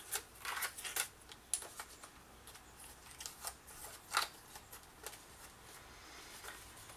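Paper rustles and crinkles as a pop-up in a scrapbook wedding album is handled and pulled open. A series of soft, irregular snaps and flicks rises from quiet, close by, with no one talking.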